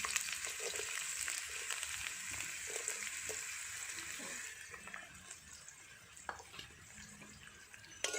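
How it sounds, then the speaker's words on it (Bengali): Potatoes frying in mustard oil with black cumin, dried chili and garlic give a soft, steady, close sizzle throughout, fairly quiet and unbroken. "আলুটা একটু ভাজা ভাজা করে নেব"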